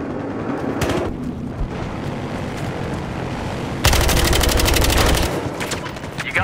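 Gunfire rattles through a downtown multiplayer match of Battlefield Hardline: scattered shots and distant booms, then a loud, rapid automatic burst lasting over a second before tapering into more sporadic fire.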